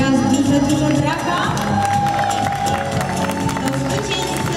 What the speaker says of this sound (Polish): Jeszcze raz duże, duże brawa.